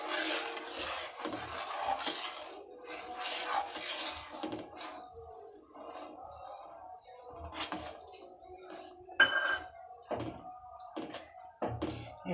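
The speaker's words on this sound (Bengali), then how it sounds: "এবারে আস্তে আস্তে আপনারা সুজিটা দেবেন আর নাড়তে থাকবেন।" Semolina is stirred into water in a pot, with repeated rasping scrapes of a spoon against the pot and a sharp clink near the end.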